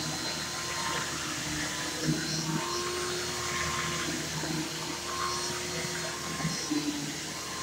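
A vacuum cleaner runs continuously at close range with a steady whirring hum and airy hiss, its tone wavering slightly.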